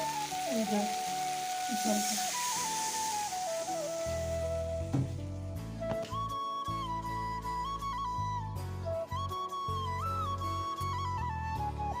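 Spice paste with sugar frying in oil for a potato and paneer curry, a steady close sizzle with occasional stirring scrapes, while background music plays throughout.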